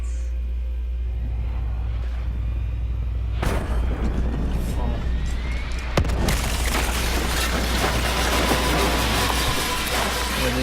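An aircraft shot down and exploding in the Black Ops 3 zombies game, a sudden heavy boom that swells into a sustained roaring, rumbling blast, loud and dense over a constant low hum.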